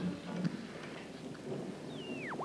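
A rainstorm hisses steadily at a low level in an old horror sci-fi film, with soft crackles and a rising electronic-like whistle near the end, faint and continuous with no talk.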